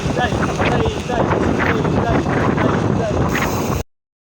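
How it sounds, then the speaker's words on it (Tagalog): Strong wind roars and buffets the microphone in a heavy, continuous rush, cutting off abruptly near the end. "Lakas na lang hangin"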